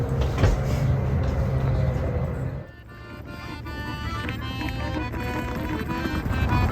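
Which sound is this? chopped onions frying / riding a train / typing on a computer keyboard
riding a train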